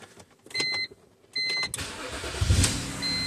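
A 2007 BMW X3 (E83) with an immobilizer no-crank fault: whirring electric pulses and cranking, then the engine catching and settling into a steady idle close by, with no talking.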